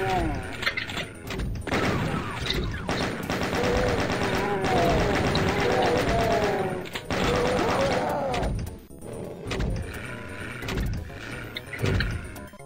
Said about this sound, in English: I'm going to wait for a chain gunner so I can take their chain guns and blast the shotgun behind the shallow windows to the left.